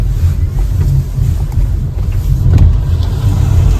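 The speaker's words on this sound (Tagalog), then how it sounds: "Grabe ang mga sasakyan." Heavy winter traffic on a cold road, a steady low rumble of many vehicles passing with wind buffeting the microphone throughout, fairly loud and continuous with no talking.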